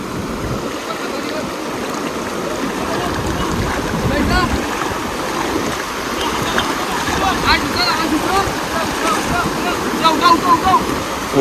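Rough sea waves surge and wash back continuously along the shore during fishing in a storm, a loud, steady roar of rushing water throughout.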